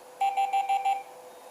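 Five evenly spaced automatic Morse code dots from an old-school electronic keyer, crisp identical beeps in a quick regular rhythm, loud and alone in a quiet room.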